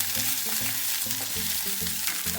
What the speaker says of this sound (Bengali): আমাদের ফোড়নটা ভাজা হয়ে গেলে আমরা এতে দিয়ে দেবো আদা কুচি